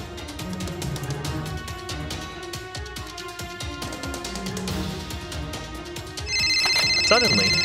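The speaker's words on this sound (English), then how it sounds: "Suddenly, SEAL X's phone rings." A phone rings in an action movie scene, an electronic ring with steady repeating tones entering near the end over busy background music and effects.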